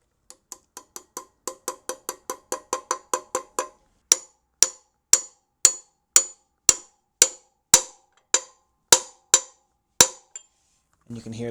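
A Suzuki DR650 rear wheel bearing is driven into the hub with a socket and hammer, giving close metallic ringing taps that first speed up in a quick series, then change pitch to slower, evenly spaced blows as it seats.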